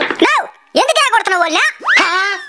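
Dog gives a series of loud, close, high yelping barks and whining yips in three uneven bursts with short gaps between them.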